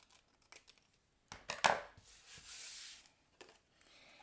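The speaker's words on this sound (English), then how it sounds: "Bring in my scissors, turn it over, and just cut away the excess." Scissors trim excess card paper from a folded greeting card in a crafting setting, with a few soft close snips and rustles and then a brief louder crisp cut and paper scrape, followed by faint handling noises.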